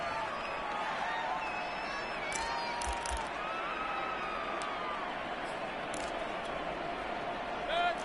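A stadium crowd in an American football video game keeps up a steady, broad roar throughout, with faint whistles and a few brief thumps over it, while a commentator talks underneath.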